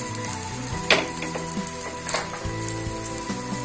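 A tapioca adai pancake sizzles on a pan over medium heat, a soft steady crackle with a couple of brief louder spits, heard over a faint tonal background.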